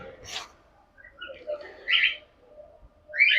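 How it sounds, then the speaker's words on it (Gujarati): Parrots at a temple cowshed give a few scattered chirps and short squawks, some fairly bright and near, separated by quiet gaps over faint low background rumble. "આ તો પોપટે લાગે બધા."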